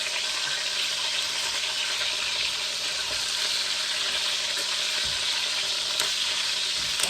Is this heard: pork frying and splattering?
yes